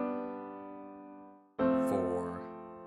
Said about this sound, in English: Next thing we can do is 6-5-4-1. So that sounds like this.